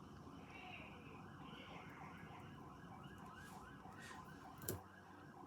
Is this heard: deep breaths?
no